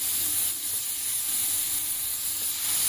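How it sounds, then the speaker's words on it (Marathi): Marinated pineapple slices cook in melted butter in a pan for caramel pineapple, a close, steady hissing sizzle that holds even throughout with no voices. "मॅरिनेट केलेले पायनॅपलचे स्लाइस ठेवून घेऊ."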